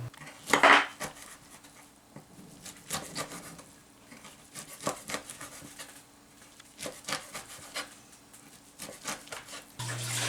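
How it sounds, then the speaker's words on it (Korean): A knife slicing five shiitake mushrooms and 400 g of bracken on a cutting board, making soft, uneven scraping and chopping strokes close by, with a few louder knocks and no voices. "표고버섯 5개를 썰고 고사리 400g을 썰어 준비합니다."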